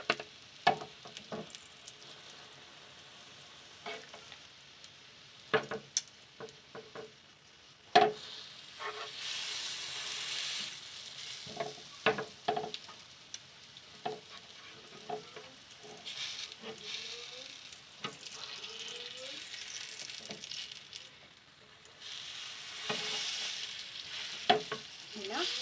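Bread pakora fries in oil over a low flame with a quiet, steady sizzle and scattered crackles and pops that run on for a long stretch.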